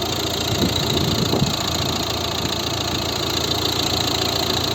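A 2012 Volvo V60 with a 1.6 diesel engine idles steadily and quietly, a smooth even hum from start to finish with no talking.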